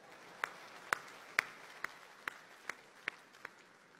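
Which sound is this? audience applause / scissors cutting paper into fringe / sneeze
audience applause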